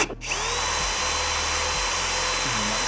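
A power drill fitted with a masonry bit whirs at a steady high pitch after a sharp start, running continuously and close with slight wavering as the bit fails to bite.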